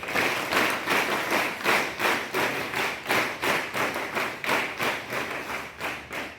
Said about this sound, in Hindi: तो आप सभी अपने अध्यापकों के लिए और जजेस के लिए जोरदार तालियां लगाइए